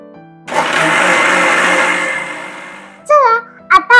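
A mixer grinder whirs loudly for about two and a half seconds as it blends mango lassi made with sugar, saffron and cold water, then winds down, followed by someone talking briefly.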